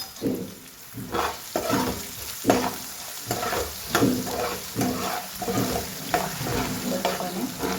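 Potatoes frying in a pan with turmeric and asafoetida, a steady close sizzle broken by regular rhythmic scrapes and stirs of a spoon roughly every second, with no talk.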